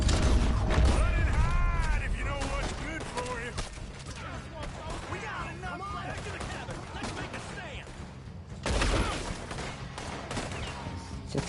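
Rapid gunfire in Red Dead Redemption 2 with the fast ammo cheat active, a busy clatter of shots and mechanical clicks that lulls midway and then returns in a loud burst near the end.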